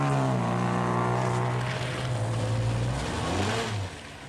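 A little Sprite rally car driven by Tommy Wisdom in the 1958 Alpine Rally, its engine droning loudly and close, pitch rising and shifting as it pulls through gears, then easing off near the end.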